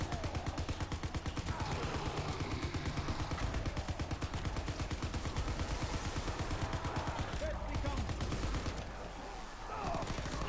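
Rapid continuous bursts of PPSh submachine gun fire in a WW2 zombie shooter game, dense and sustained with a brief break near the end.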